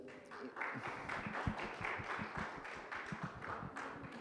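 Audience applause at a literature panel event, as a panelist walks down the aisle: quiet, distant scattered clapping in an irregular patter for several seconds, with no talk over it.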